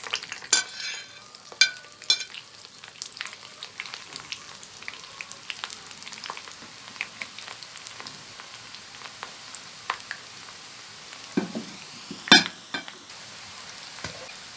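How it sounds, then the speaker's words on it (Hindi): French fries being fried a second time in hot oil, heard as a steady soft sizzle with scattered bubbling pops and a few sharper crackles, fairly quiet and without any talking. "अब ये फ्राइज जो मैंने बाहर रखी थी दोबारा इनको फ्राई करूँगा।"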